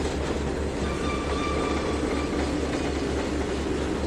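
A train rolling on rails in the simulator game Trainz 2019, a loud continuous rumble with a steady rhythmic clickety-clack of wheels throughout, no talking.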